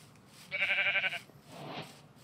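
A sheep in Minecraft Java Edition gives one wavering, buzzy bleat of about half a second, moderately loud, followed by a softer, breathier sound over low background ambience.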